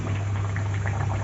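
Kochuri dropping into hot oil and frying, a steady dense bubbling sizzle with a constant low hum underneath, no speech.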